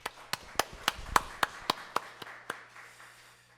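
At a Sunday service in a Korean church, the congregation applauds the worship team with a short run of sharp, evenly spaced claps that slowly spread out and fade, with a low hum behind and no talking.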